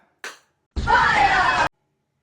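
Hand claps in a party clapping game: one short sharp clap, then after a pause a longer burst of many people clapping together, close and loud.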